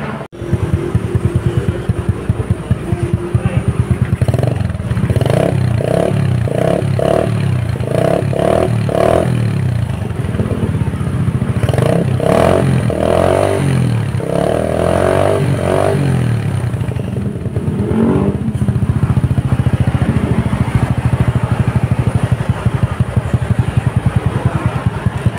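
A Suzuki Smash 115 motorcycle fitted with an Apico exhaust idles loudly and close by with a rapid, popping beat. It gets repeated sharp throttle blips in the middle, then settles back to a steady idle, with no voices.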